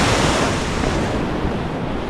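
Ocean waves from the Arabian Sea surge and break on an empty beach, a continuous loud wash of surf with steady roar and some wind buffeting the microphone, no voices present.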